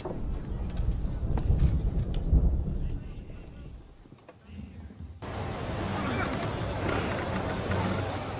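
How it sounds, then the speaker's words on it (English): A thunderstorm at sea in the video game Assassin's Creed III, with rumbling thunder and rain under murmuring voices, then a sudden louder, steady wash of storm noise in the second half. "You wish us to sail into the storm?"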